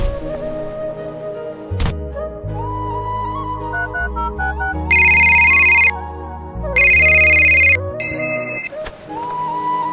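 A phone ringtone for an incoming call plays loudly and close: a repeating electronic melody with bright chiming bursts, running alone for the whole stretch.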